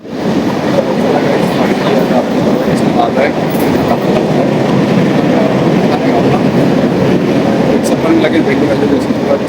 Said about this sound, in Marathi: ट्रेन बघू आता आहे कुठची. फास्ट ट्रेन आहे,